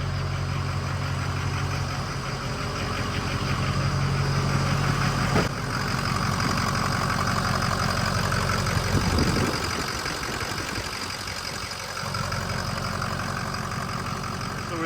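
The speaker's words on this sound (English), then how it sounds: "Sitting here, been idling about 5 minutes" A vehicle engine idling in a garage after an oil system refill and cooler replacement: a steady, continuous mechanical rumble with a faint ticking texture, running unbroken and close by throughout.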